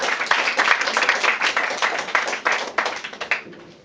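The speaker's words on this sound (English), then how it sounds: "I would recommend giving a round of applause to the organizing committee for pulling this event off." An audience applauds the organizing committee at an event, a dense burst of many hands clapping together, sustained and fairly close before it thins out toward the end.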